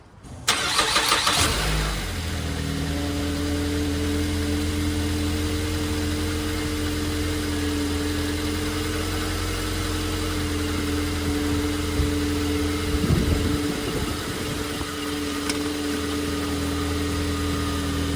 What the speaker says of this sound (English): I'm gonna turn on the car and hopefully we don't have any leaks.